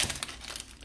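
A Pokémon card promo pack being torn open, a short burst of crinkly foil-wrapper crumpling and ripping, close and fairly loud.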